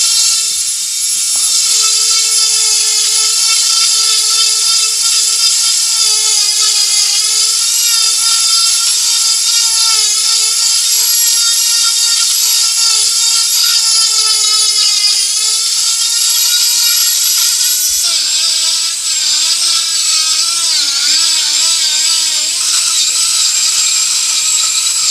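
A Dremel rotary tool fitted with a Kutzall Extreme Flame Burr carves into wet wood, giving a loud, steady high-pitched whine that runs without pause, its pitch dipping and wavering slightly as the burr bites, with no talking.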